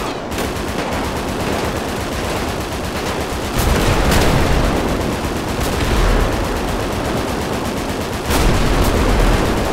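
Sustained automatic gunfire in GTA 5 zombie survival mode, loud dense rapid shots nearly continuous, with a few heavier bursts standing out over the constant rattle.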